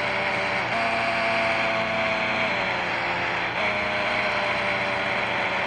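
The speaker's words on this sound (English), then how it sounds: "The car is too loud." A car engine in the mobile game Car Parking Multiplayer drones steadily throughout. The loud, continuous hum shifts pitch only slightly, with no talking over it.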